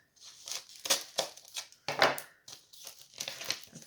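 Paper envelope with a Christmas card inside torn open by hand, close and crisp, a series of sharp ripping and crinkling bursts in quick irregular succession.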